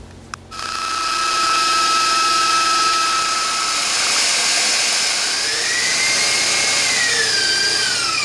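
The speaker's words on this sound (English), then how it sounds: "I'm just going to turn on the mixer and let this whisk" An electric mixer whisks cream with powdered sugar, switching on with a click and rising into a loud, steady high-pitched whir whose motor tone drifts slightly as it runs, close and with no talk.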